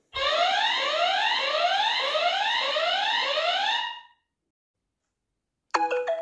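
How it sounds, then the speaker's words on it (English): A Galayou outdoor security camera's motion alarm blares a loud, repeating rising electronic siren for about four seconds, then cuts off, followed by a short chime. "I've got a new motion alarm for camera, outdoor camera."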